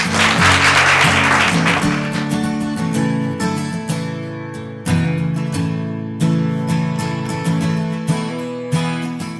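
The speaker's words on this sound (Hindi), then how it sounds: "इसके लिए जोरदार ताली।" An audience of teachers and students at a school leadership event claps loudly, a dense burst of applause that gradually thins into scattered claps while music or a drum-like beat punctuates it.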